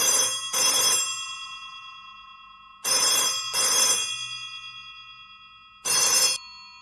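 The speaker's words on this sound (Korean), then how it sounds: "오늘따라 전화벨 소리가 유난히 크게 들린다" An old black telephone rings loudly in three bursts, two double rings followed by a single ring, each a bright metallic bell trill echoing briefly into silence, with no voices.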